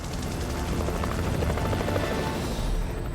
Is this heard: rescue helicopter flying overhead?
yes